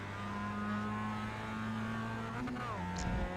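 Mazda Miata race car running on the Indianapolis road course, a steady close engine drone with gear-shift pitch changes near the end, under faint talk.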